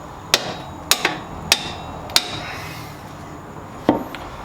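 A hammer taps a part into the front strut hub of a Saab 9-5 during a strut replacement, with five or six sharp, separate metallic knocks at uneven intervals, close and clear, with no voice.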